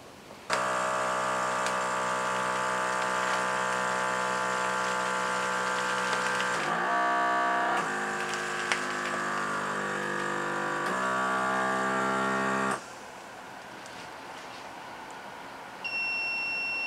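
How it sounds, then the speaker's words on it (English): A vacuum sealer sealing bags of freeze-dried shepherd's pie hums steadily and loudly as its pump runs, shifts pitch partway through, then drops to a quieter tone near the end. "So we got those sealed up in there, vacuum sealed."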